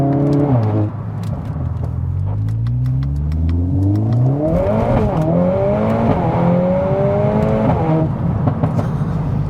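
A Mercedes-AMG A45 S revs hard under acceleration, its engine note climbing and dropping sharply with each quick gear shift, loud and close throughout.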